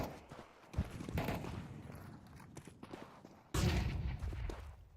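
Gunfire bursts and sharp impacts from a competitive tactical shooter video game, dense and loud, with a heavier flurry of shots near the end, no voices.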